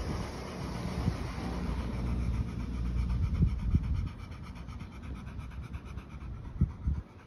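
A kennel dog, a female, pants steadily in quick rhythmic breaths close to the microphone, with wind buffeting in the background and no talking.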